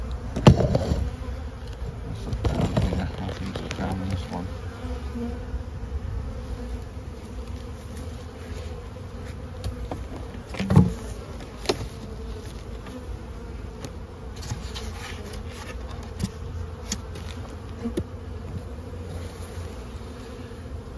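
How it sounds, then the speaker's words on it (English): A dense, continuous hum of many honeybees buzzing close by in an open single brood chamber hive, with a few louder passes and occasional clicks and knocks. "plenty of bees in here."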